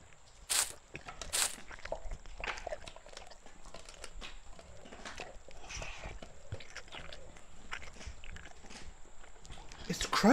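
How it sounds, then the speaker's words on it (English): Irregular wet crunching and gnawing, like bones being chewed, with a few sharp cracks over a low muffled background and occasional voices, from a creature eating in the horror video game Something In The Woods. "You can hear bone crunching sounds."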